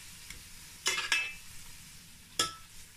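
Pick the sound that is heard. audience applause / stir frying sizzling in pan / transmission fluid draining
stir frying sizzling in pan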